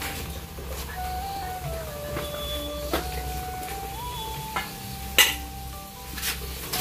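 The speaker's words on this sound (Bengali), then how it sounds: "তো বন্ধুরা আজকে প্রথম ভাজছি সিঙ্গাড়া" Samosas (singara) fry in hot oil with a low, steady bubbling sizzle, broken by occasional sharp clinks and stirs, and a faint wavering tonal sound in the background.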